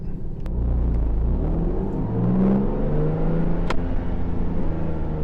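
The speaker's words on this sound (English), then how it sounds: "So you put it in first, you give it gas, and you release it." A manual car in first gear pulls away as the clutch is released, the engine rumbling and rising steadily in revs, loud and close from start to finish.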